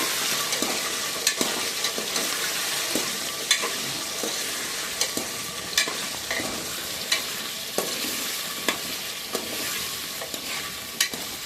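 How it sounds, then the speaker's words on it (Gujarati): Potato pieces sizzle steadily in hot oil in a pan with cumin seeds and curry leaves, while a spoon scrapes and stirs at regular intervals, close and clear, with no talking. "અને તેમાં આપણે તેલમાં નાખી દઈશું બટેટા."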